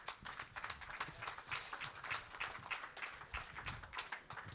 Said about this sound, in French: Vous pouvez les applaudir, merci beaucoup.